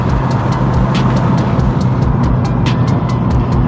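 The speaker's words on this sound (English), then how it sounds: "Do a couple more so you can hear the car." Turbocharged Subaru BRZ running on E85 fuel accelerates hard, a loud sustained engine roar with a steady rumble and sharp periodic crackles or flutter bursts on top, heard close and continuous without talk.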